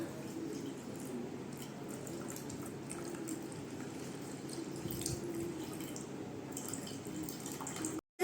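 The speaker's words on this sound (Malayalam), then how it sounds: "നമ്മൾ നല്ല വെള്ളം ഒഴിക്കുകയാണ്" Water pours steadily into a cooking pot for soup with a soft, continuous splashing rush, fairly faint, ending abruptly.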